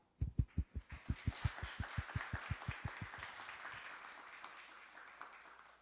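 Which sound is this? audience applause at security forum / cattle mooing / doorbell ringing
audience applause at security forum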